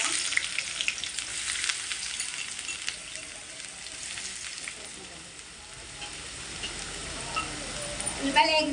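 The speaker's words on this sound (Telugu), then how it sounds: "ఉల్లిపాయలు వేగించుకుందాం ఫ్రెండ్స్." Two onions frying in hot oil for a fish curry, a steady crackling sizzle that eases slightly midway and then picks up with sharper pops near the end, no talking over it.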